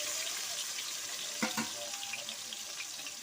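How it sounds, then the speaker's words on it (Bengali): Potato pieces fry in hot oil with a steady, soft sizzling hiss, broken by a couple of brief stirring knocks midway, and no speech. "আলুটা একটু নেড়ে নেব।"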